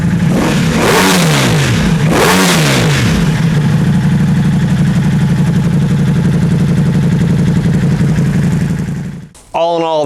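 A Ducati Multistrada V4 motorcycle with an Akrapovic exhaust, two deep sweeping revs up and down followed by a loud, steady bassy rumble held for several seconds before cutting off, close and dominant.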